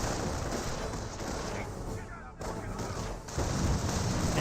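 A 25-pounder artillery barrage in the Company of Heroes strategy game rumbles as a dense, continuous roar of blasts and gunfire, loud and unbroken, with a voice partly mixed in.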